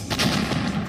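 An explosion from a wartime attack on the administrative building in Kharkiv, Ukraine, heard as a loud, rough burst of booming impacts within under a second, with no talk.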